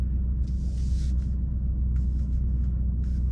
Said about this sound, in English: foot on the gas, accelerate, and off we go.